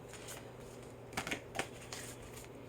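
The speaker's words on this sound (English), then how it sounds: "If I pull the cards back, know that I'm shuffling." Large tarot cards shuffled by hand, a few soft papery riffles and flicks, faint and close, set against a quiet room hum.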